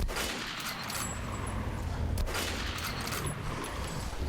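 Dense, continuous gunfire and explosive clatter from Metro Last Light's final boss fight, loud and sustained throughout, with a few sharper bursts standing out in the chaotic mix.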